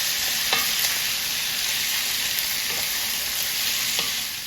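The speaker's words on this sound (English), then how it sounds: "So that's why I put the onions in second. And give that a stir." Onions and broccolini frying in an oiled skillet while being stirred: a steady, bright sizzle runs throughout, close and even, with a few soft utensil scrapes and clicks and no talking.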